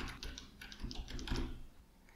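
Quiet keystrokes on a computer keyboard, a short run of soft irregular clicks typed without any talk.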